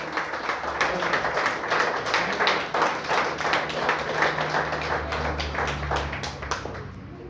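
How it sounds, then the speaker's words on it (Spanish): A church congregation claps and applauds, with many hands beating together in a fairly steady rhythm that carries on for several seconds. A faint low hum runs underneath. "Dale un fuerte aplauso al Señor."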